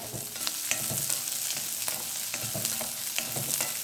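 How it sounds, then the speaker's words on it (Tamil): Mutton kheema masala sautés in a pan, a dense steady sizzle broken by repeated scraping stirs of a spoon, close and fairly loud, with no voices. "இந்த மாதிரி நல்லா வதக்கணுங்க, நல்லா வதக்கணும்."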